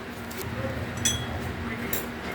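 A drinking glass is set down, with a few light clinks over faint background noise.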